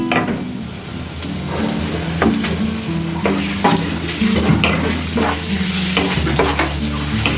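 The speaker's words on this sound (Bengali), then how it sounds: "এবার আমি চিংড়ি মাছগুলো দিয়ে দিচ্ছি।" Prawns frying in a pan with onion and whole spices for a prawn pulao, a continuous close sizzle broken by repeated scraping stirs of a spoon against the pan, no voices.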